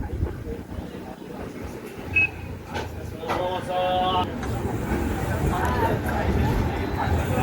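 The Mandovi Express on the Konkan Railway rolls into Ratnagiri station with a low rumble and wheel and carriage noise, while passengers chatter and murmur nearby on the crowded train.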